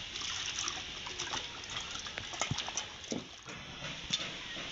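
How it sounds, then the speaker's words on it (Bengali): Chopped pithe pieces are washed by hand in water, with soft splashing, trickling and wet clattering that comes in short irregular bursts, quiet and close, with no speech. "এবার ভালো করে ধুয়ে নেব"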